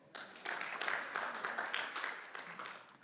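A church congregation claps in a broad, sustained patter of many hands, fairly close and steady, with faint voices mixed in and bursts of slightly louder clapping rising and falling throughout.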